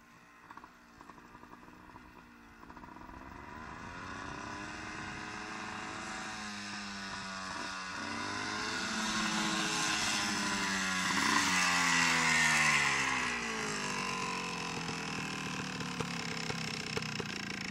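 Motorcycle engine revving in the Cereceda area, starting quiet then rising in pitch and loudness through repeated throttle swells, close by and sustained for several seconds before settling to a steady drone.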